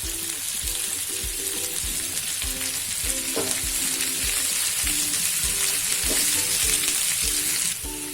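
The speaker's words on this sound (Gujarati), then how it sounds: "હવે આપણે કાંદા નાખી દઈશું કાંદાને વટાણા બંને સાથે નાખી દઈશું" Onions and peas frying in a pan, heard as a loud, steady sizzle with a crackling hiss that runs continuously, up close and without voices.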